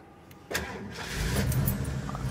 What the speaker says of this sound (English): The truck starts fine, runs fine.